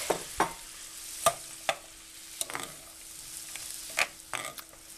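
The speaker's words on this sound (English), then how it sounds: "So we're stirring that in, and I'm breaking a few of them because it's still frozen." Seafood curry with frozen crab and shrimp stir-frying on high heat, a soft steady sizzle under sharp, irregular clicks and scrapes of a utensil against the pan, close and without talk.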